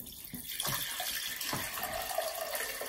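Water is poured into a glass vase holding aluminium wire, a close, continuous gushing fill with bright splashing that keeps a steady level throughout, with no talking.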